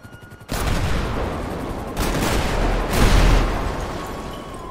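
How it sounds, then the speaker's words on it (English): Explosions and gunfire in GTA 5, dense continuous booming blasts with heavy low rumble, swelling in loud waves after a short rattling burst at the start, no talk. "Like it's gonna crash the game with all these explosions."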